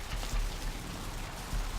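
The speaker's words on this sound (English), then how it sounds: "Also, it's raining." Rain falls steadily in the video game Vampire: The Masquerade - Bloodlines, a dense, even hiss of drops on surfaces with a few slightly louder spatters.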